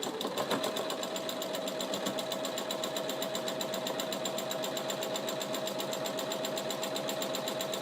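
Sewing machine top stitching around the edge of a fabric scrubs bag, running continuously at a fast, even rhythmic hum with a steady mechanical ticking, close and loud throughout with no talking.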